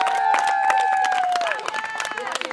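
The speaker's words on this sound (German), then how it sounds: "Aber ein riesen Applaus" Crowd applause with clapping and a few cheers, fairly loud, while a tonal sound glides across the first part before the clapping thins.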